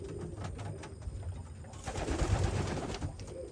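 Racing pigeons in a loft, soft low cooing repeated over a steady background hum, moderately close and fairly quiet.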